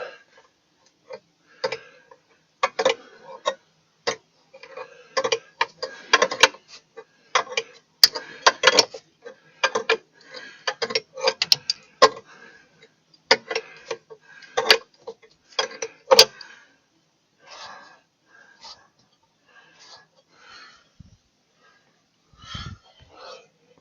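A jack is worked under a 2013 Hyundai Elantra, giving a string of sharp ratcheting clicks in uneven bursts, close and fairly clear, thinning out near the end.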